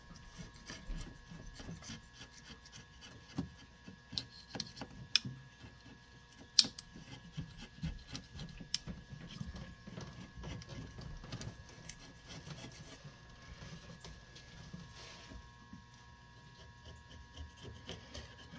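A small razor scraper rasps steadily across an aluminum transmission plate during a 4T65E HD rebuild, with repeated short scraping strokes close up over a low hum.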